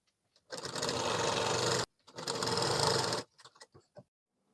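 A sewing machine stitches the border onto a blouse sleeve in two loud, steady runs of about a second and a half each, separated by a brief stop and followed by a few faint clicks of fabric handling.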